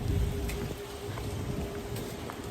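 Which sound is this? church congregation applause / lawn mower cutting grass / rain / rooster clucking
rain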